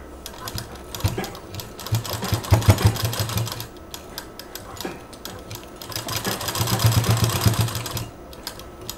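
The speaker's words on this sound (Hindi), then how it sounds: "ये डबल मशीन चल गई।" A double sewing machine stitching a door mat, running in two bursts of rapid mechanical clatter with a steady low hum beneath, close by and fairly loud, with a brief pause between the runs.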